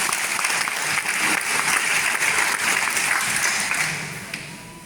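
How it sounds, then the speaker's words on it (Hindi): A crowd claps steadily for a woman at a gathering, dense, loud applause that holds for several seconds before easing toward the end, with no talk over it. "दीदी के लिए ताली हो जाती है"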